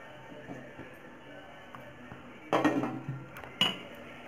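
A lid set onto a pot of sponge cake batter: two short, bright metallic clatters about a second apart, the first a little longer, standing out from a quiet kitchen background.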